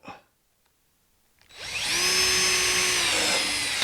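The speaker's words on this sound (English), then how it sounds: "Pre-drill this, line it up." A power drill spins up after a brief knock and a pause, whirring steadily with a high motor whine that shifts slightly in pitch as it pre-drills screw holes in a gate frame.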